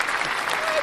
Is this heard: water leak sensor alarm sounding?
no